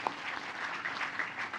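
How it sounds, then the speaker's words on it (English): An audience claps in steady applause at a women-in-tech event in Indonesia, a dense even patter that stays level and moderately loud through the short stretch with no voices over it. "So you should give yourselves a round of applause"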